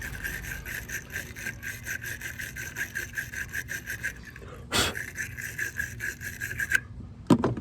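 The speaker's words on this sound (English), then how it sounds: "We're going to go ahead and clean the negative terminal here." Steady rapid scrubbing scrapes come from cleaning the negative battery terminal on a 2018 Toyota Yaris iA, with a close, rasping back-and-forth rhythm and a brief louder knock midway.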